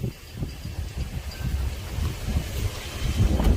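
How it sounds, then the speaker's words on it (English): Steady wind buffets the microphone outdoors with a constant low rumble and gusty roar, no voices. "It's very windy out here."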